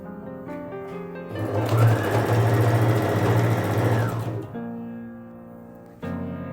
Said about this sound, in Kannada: ಎರಡೂ ಬಟ್ಟೆನ ಸೇರಿಸ್ಬಿಟ್ಟು ನಾನೀಗೊಂದು ಸ್ಟಿಚ್ನ ಹಾಕ್ತಾ ಇದ್ದೀನಿ